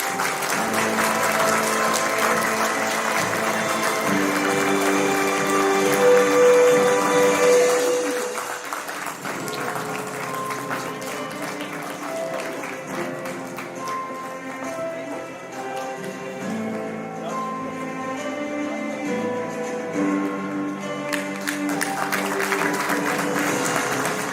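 An audience at a teachers' award ceremony claps over background music, with a fuller burst at first that eases after a few seconds into lighter, scattered applause alongside the music.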